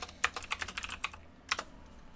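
Quick bursts of typing on a computer keyboard, close and clear, with about a dozen rapid key clicks, a short pause, then one more pair of keystrokes, no talking.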